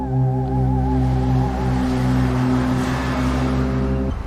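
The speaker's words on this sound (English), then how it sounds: "I floored the gas pedal, tires screeching as I sped off into the night." A loud, steady engine drone with strong tonal hum, holding at high revs before cutting off abruptly at the end.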